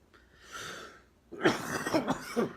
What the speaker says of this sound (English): I'm sorry about the cough thing.